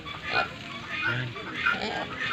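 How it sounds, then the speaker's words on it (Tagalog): Wild boar grunt in short bursts along the Marikina riverbank, close by and mixed in with people talking over them. "Wild boar. Yan,"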